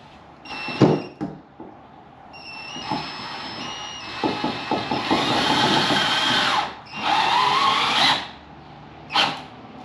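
Screws are driven into a fishing kayak mount with a cordless power drill, in short whirring bursts and longer loud runs broken by pauses and handling clatter, close by.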